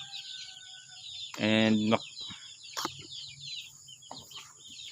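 Free-range chicks in a brooder, about 127 of them, give high chirps and peeps. A louder clucking call stands out midway, and someone speaks briefly.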